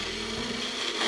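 A kitchen blender whirs steadily through roasted garlic sesame salad dressing, a brief, close, continuous whirring buzz with no talking.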